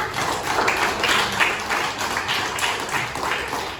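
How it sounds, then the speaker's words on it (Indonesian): A classroom group claps for a student during a Hindu religion lesson, dense continuous applause from many hands close by, steady and fairly loud throughout. "Tepuk tangan dulu untuk Dana"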